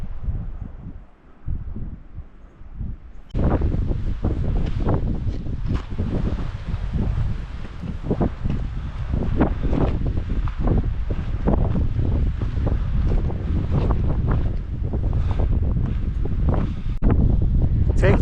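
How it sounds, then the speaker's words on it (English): Strong wind roars across an exposed mountaintop overlooking Owens Valley and the White Mountains, buffeting the microphone in a loud, continuous rush that swells suddenly after a calmer opening few seconds. "wind and all, because it is blowing."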